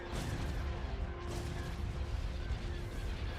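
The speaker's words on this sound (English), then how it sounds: "Fire on those ion cannons" Ion cannons firing in the Empire at War strategy game, a dense, rumbling barrage of booming artillery-like blasts rolling on continuously under a faint electronic hum.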